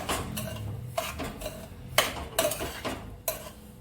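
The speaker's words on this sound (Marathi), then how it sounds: "मी त्यामध्ये हा रवा सोनेरी होईपर्यंत भाजून घ्यायचा आहे" Rice rava roasting in ghee in a pan is stirred with a metal spoon, giving repeated close scrapes and clinks in an uneven rhythm over a faint sizzle, and nobody talks.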